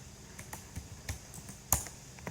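Keys tapped on a computer keyboard to enter a short word, about six light, separate clicks over two seconds with one sharper stroke near the end, close and fairly quiet, with no talking.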